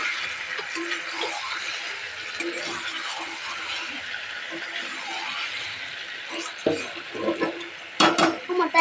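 Hot water poured into cauliflower and meat cooking in a pot: a continuous soft sizzle and stirring, then louder clatter and splashing bursts toward the end, close by.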